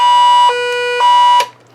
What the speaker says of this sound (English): Siren, classic siren.